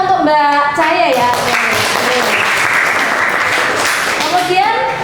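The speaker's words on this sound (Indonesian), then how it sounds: "Tepuk tangan untuk Mbak Cahaya ya" Classroom applause from a group of students, a burst of clapping lasting a few seconds that swells and then fades, bracketed by a teacher's voice before and after.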